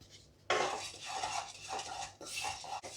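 Charmagaj seeds dry-roasting in a kadai, with a utensil stirring and scraping against the pan in repeated close metallic strokes and soft rattles after a quiet start.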